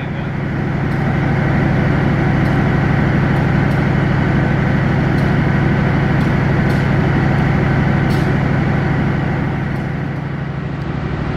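The Jayakarta train passing straight through track 7 at Jatinegara station, Jakarta, a loud, sustained rumble of rolling wheels and engine with faint periodic clicks, fading slightly at the end.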